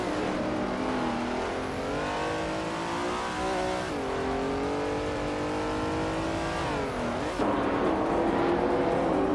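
Race cars in a video game roaring continuously close up, engine pitch rising and falling through gear shifts as they speed along.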